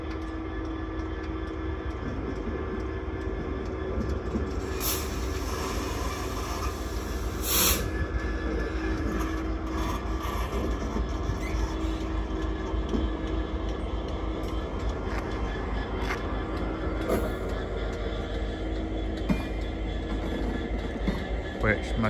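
Freight train hauled by locomotive 66177 slowly rolls into a siding at Ely on the Fen line, a low sustained rumble of engine and wagons with occasional sharp wheel squeals and clanks, moderately distant, over steady outdoor background.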